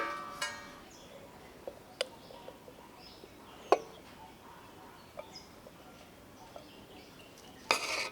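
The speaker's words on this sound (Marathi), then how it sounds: "आपण झाकण काढून घेऊया आणि गरम गरम ह्याला सर्व करूया." A lid is lifted off a pot of pavta bhat, a rice dish cooked with pavta beans, giving a few sparse, faint metallic clinks and one sharper clank over a quiet kitchen background.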